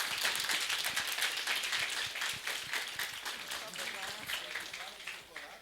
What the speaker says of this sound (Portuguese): Pode aplaudir, pessoal.